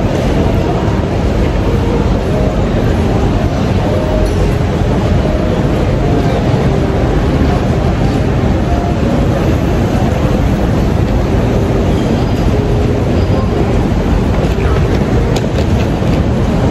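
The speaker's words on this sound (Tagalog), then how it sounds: "The train to city. Ah, there, MRT." Singapore MRT metro train, a loud, steady, dense rumble with rushing noise that fills the whole stretch evenly, heard from close by with no breaks.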